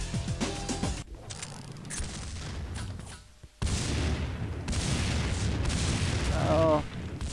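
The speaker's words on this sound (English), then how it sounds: "It was a good fireworks show." Explosions in the video game Max Payne 2 (modded) boom out in a loud rumbling blast and a continuing roar of detonations and debris, with a brief gap before a second heavy burst.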